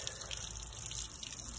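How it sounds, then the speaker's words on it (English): Water running through flush muffs on an outboard motor, feeding the intake to clear a clogged tell-tale, a steady close rushing and splashing flow with no talk. "So I got the muffs on, water running, going into the intake"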